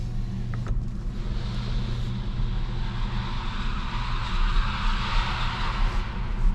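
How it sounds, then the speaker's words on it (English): Tires hiss steadily on a wet road under a quiet MG ZS EV electric car at night, a continuous broadband wash with a low rumble, close and constant, with no voices. "We had the rain outside, so of course you do hear the tires"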